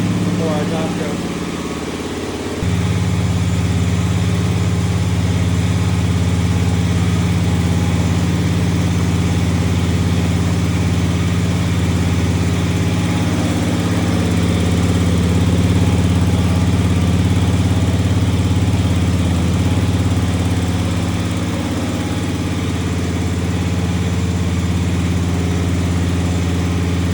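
A floor grinding machine works over a terrazzo floor during restoration, a loud, steady motor drone that swells a few seconds in and holds constant to the end.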